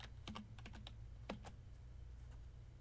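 Soft typing on a computer keyboard: a few quick, close keystrokes in two short clusters, then quiet, with a low electrical hum underneath.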